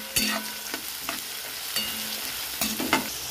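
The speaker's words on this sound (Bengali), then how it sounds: "তেলটা গরম হয়ে গেছে, এবার ডালটা আমি দিয়ে দেবো। ডালটা একটু ভেজে নেব" Dal for a chickpea-lentil dalmut fries in hot oil in a wok, a steady crackling sizzle broken by several sharp metallic scrapes and taps from a stirring spoon.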